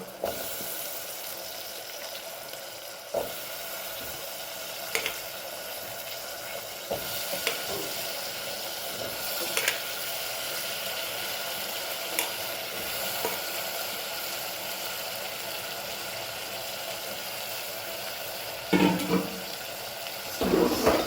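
Potatoes added to a cooking masala fry with a steady broadband sizzle, broken by occasional scrapes and clatters of stirring, closing with louder stirring bursts near the end; no one speaks.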